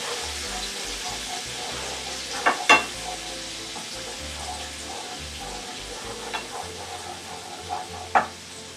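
A frying mixture stirred with a wooden spoon alongside ribeye steak cooking, giving a steady low sizzle with a few soft knocks and scrapes against the pan, close and without talk.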